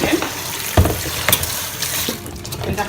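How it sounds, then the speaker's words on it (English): Hot tap water running into a bowl as it is rinsed clean in a kitchen sink, a short splashing stream with clinks and a gurgling fill, close and fairly loud. "I'm just going to go rinse it with hot water again."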